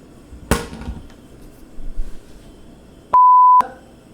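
A kitchen timer set for four minutes gives one short, steady electronic beep near the end, clear and fairly loud, after a few faint kitchen clatters and knocks in an otherwise quiet room.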